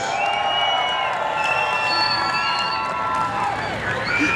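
A large crowd at a drag racing event at Xtreme Raceway Park, Texas, cheers and shouts continuously, with whoops and high voices rising over a steady roar of noise.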